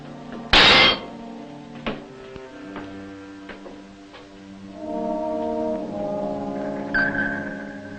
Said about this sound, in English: hearing the pinging of the enemy vessels above